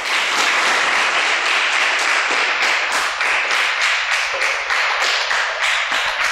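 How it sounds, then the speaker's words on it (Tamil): Dense, steady applause from a large audience at a Pongal special stage show, many hands clapping together loudly and continuously with no voices over it. "யார் யாருக்கு பிடிச்சிருந்ததோ எல்லாம் பயங்கரமாக ஒரு கைத்தட்டல் செய்யும் பார்ப்போம்"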